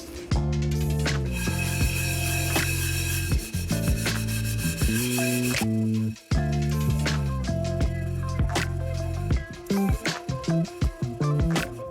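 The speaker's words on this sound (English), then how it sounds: "Just a few little scrubs, no effort really at all, and it's already coming off and getting shiny and sparkly." Steady rubbing and scrubbing on a dirty metal pan, a continuous close abrasive scouring with short strokes, briefly pausing near the middle before carrying on loud and busy.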